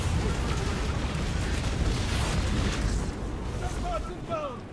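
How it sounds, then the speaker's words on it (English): Missiles landing and exploding in the Destiny 2 beta, a steady dense roar of rumbling blasts and booms with a few brief zipping effects near the end. "I'm gonna watch out by not being anywhere near where the missiles are landing"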